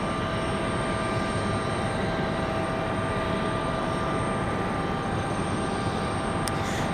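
Airliner taking off from runway 23 left at Raleigh-Durham International, a steady broadband engine roar held at even strength throughout, with no voices over it.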